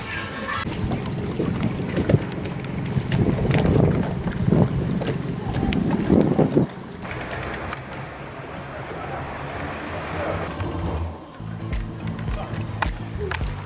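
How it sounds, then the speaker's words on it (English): A breeze blows through a houseboat on a lake in hot weather, giving a steady gusty rush of wind buffeting the microphone, with faint water sounds and intermittent knocks underneath. "Got a nice little breeze coming through here."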